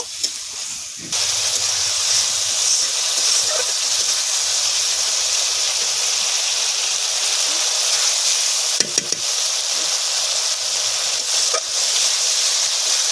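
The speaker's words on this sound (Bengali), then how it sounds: "এবার ভালো করে মশলাটা কষে নেব।" Spice paste frying in a pan with a little water for a Bengali tilapia curry with beans and potatoes, giving a steady close hiss and sizzle that starts after a second and runs on, with a few brief clatters.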